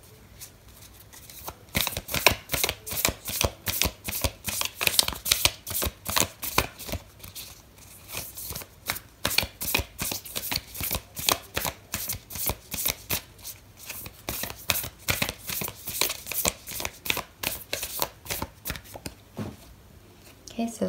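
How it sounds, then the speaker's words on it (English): Oracle cards being shuffled produce a long run of quick, crisp riffling slaps in a rapid steady rhythm, close and clear, with a voice speaking over them. "I'm going to pull out an oracle card for you"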